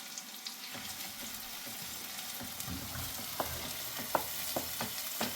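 Onion, tomato and ginger-garlic paste sauté in a pan with a steady close sizzle, punctuated by several sharp clicks and scrapes of stirring toward the end; no one speaks.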